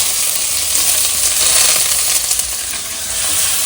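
Cumin and onion sizzle steadily in a hot pan for a home-cooked pulao, a loud, even hiss with faint stirring and no talk over it.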